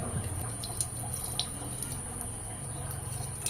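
Rice is rinsed by hand in cold water in a home kitchen, giving faint, scattered splashes and drips over a low steady hum, with a few brighter water flicks standing out.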